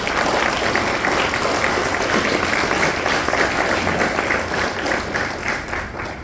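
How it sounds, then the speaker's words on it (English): Audience at a science fair gives loud, sustained applause, a thick wash of many hands clapping that carries on for several seconds before beginning to thin out. "Let's give them a big round of applause."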